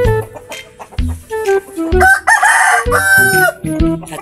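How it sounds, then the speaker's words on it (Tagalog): Loud bantam roosters crowing close by, several overlapping crows in a row mixed with clucking from other fowl. "Malalaking manok yan."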